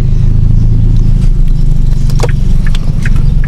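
A Toyota Corolla fitted with a straight-pipe exhaust, set in manual sport mode, revs loudly and close, a heavy droning rumble held steady throughout with some clatter on top.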